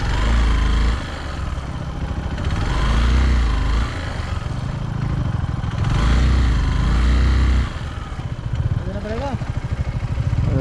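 Motorcycle struggling in first gear on a steep mountain road toward Kailash Mansarovar: a loud, labouring low engine drone that surges and dips in waves, up close, with people talking over it.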